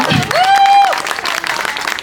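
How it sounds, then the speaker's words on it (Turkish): A crowd at a beauty salon opening in Afyon bursts into clapping right after a short high whistle-like tone rings out; the applause stays loud and close, scattered and lively, to the end. "2000 şubeye alkış istiyorum"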